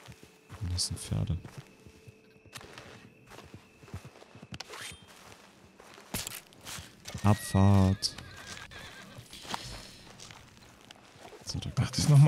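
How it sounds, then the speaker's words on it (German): Horses in the video game Red Dead Redemption 2 whinny and neigh several times while hooves clip-clop irregularly, with someone speaking German over the game sounds. "Das sind Pferde."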